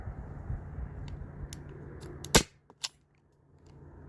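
Sharp snapping shots from a Byrna SD CO2-powered launcher fired outdoors, with CO2 warmed by direct sunlight; one loud crisp pop stands out, followed by a couple of quieter clicks over faint background hum.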